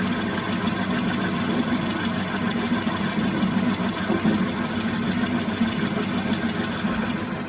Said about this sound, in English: Now just turning down the threaded end.